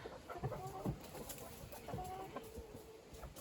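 Chickens and a white rooster roam a yard among trees, giving scattered soft clucks at a distance over a low, steady outdoor background.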